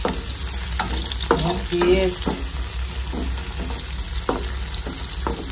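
Tomatoes sizzle and fry in a pan with crabs, with steady hissing and a few scraping stirs, while a voice briefly speaks near the end of the frying.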